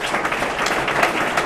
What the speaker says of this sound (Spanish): también un fuerte aplauso para él